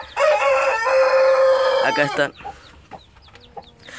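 A loud crowing call is followed by scattered, faint high peeps of Rhode Island Red and Sealand Red chicks, with a brief spoken phrase in between.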